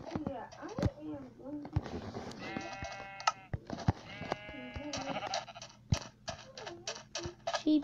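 Sheep in a video game bleat repeatedly, several wavering cries overlapping amid clicks and game noise, with a person talking throughout.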